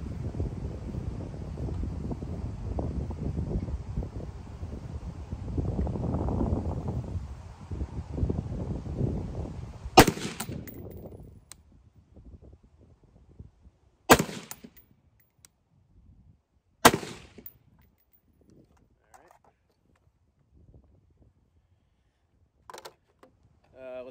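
Three sharp rifle shots crack out a few seconds apart from a rifle with a 13.9-inch Ballistic Advantage Hanson barrel firing Berger 77 grain ammunition, after a stretch of gusty wind rumbling against the microphone, with near silence between shots.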